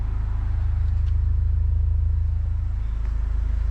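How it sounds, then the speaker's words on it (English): A 1998 Honda Prelude with a custom exhaust idles with a deep, throaty exhaust rumble, loud and close, holding steady throughout. "And it has a custom exhaust."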